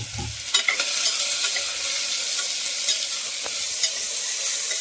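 Chopped onion, green chilli and beetroot fry in a pan, a steady crackling sizzle punctuated by scraping stirs and a few clinks of the spoon against the pan, close and with no talk over it.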